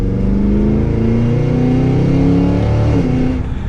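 A 2023 Cadillac Escalade V, a heavy full-size SUV, roars under hard acceleration, its exhaust booming loud and close as engine pitch climbs steadily through the run without pause.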